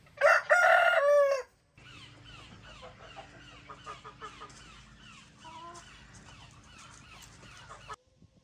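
A rooster crows loudly up close, then softer clucking and murmuring from several chickens continues in the background.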